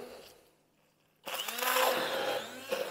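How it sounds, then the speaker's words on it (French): A blender suddenly starts up after a quiet moment and whirs loudly, pureeing hot peppers for a Tabasco style sauce; the motor runs steadily and close by, with a slight surge near the end. "Moi, je vais utiliser un mixeur, mais un blender, on peut utiliser beaucoup de choses."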